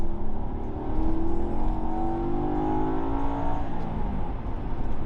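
Maserati Quattroporte V8 revving hard after a two-gear downshift, the engine note rising and swelling in steady harmonic sweeps, loud and close throughout with no talking.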